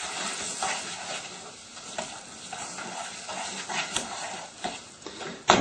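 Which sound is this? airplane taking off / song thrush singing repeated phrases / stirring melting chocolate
stirring melting chocolate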